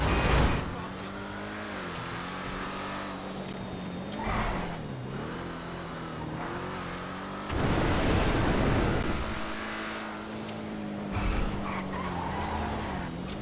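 The Batmobile supercar drives in GTA 5 Online, its engine droning and shifting pitch as it accelerates, with bursts of tire and wind rush, while someone talks over it.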